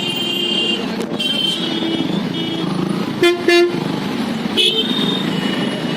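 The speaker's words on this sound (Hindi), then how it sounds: "पीछे की गाड़ियों वाले हॉर्न पर हॉर्न मारना शुरू कर देते हैं" Several car horns honk in traffic, short toots and a pair of blasts scattered over a steady road hum, fairly loud and close.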